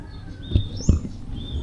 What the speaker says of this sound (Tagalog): ang daming uwak nakapatong dito sa nitso. Yan, nagliparan ang mga uwak ko.